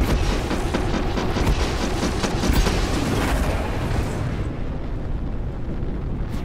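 A starship in a Star Citizen dogfight takes incoming fire, a dense rumbling barrage of booming impacts and blasts that fades slightly near the end, loud and continuous with no voices.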